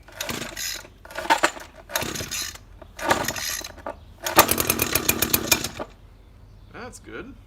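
An Echo chainsaw being started after six months of winter storage: several rhythmic pull-cord rattles, then the two-stroke engine catches, sputters loudly for about a second and a half, and dies.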